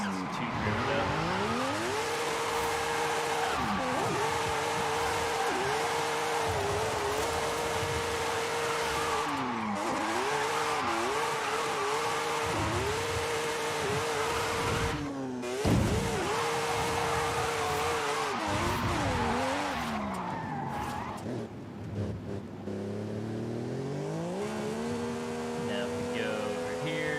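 Video game car drifting through a drift zone near a wall and crowd, with a steady engine drone and wavering tire squeal that runs throughout, with occasional talk over it.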